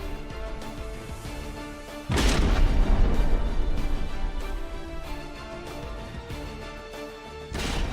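Missile explosions in a video game: a loud, heavy boom crashes in and rumbles away over several seconds, then a second blast strikes at the end, both over a droning background.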